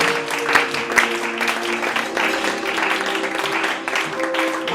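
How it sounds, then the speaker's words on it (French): A church congregation breaks into applause, clapping steadily and fairly loudly for a few seconds, with voices and cheers mixed in among the claps and a low musical tone sustained underneath. "Est-ce qu'on peut acclamer pour la parole?"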